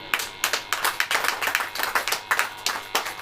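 A church congregation claps hands in a steady, fairly quick rhythm of sharp group claps, close and loud, with no talking over it.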